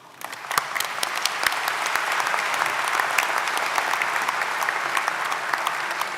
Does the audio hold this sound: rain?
no